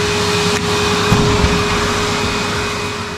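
A DeWALT DWH161N dust extraction system runs as a vacuum cleaner in a car interior, drawing up pebbles and sand with a loud, steady suction roar and a few brief knocks of debris, with no talking.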